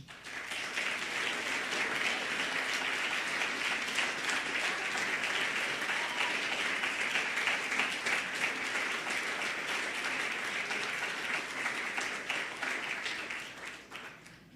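A college athletic Hall of Fame ceremony audience gives a long round of applause for an inductee, even, moderately distant clapping sustained for over ten seconds before tapering off at the end.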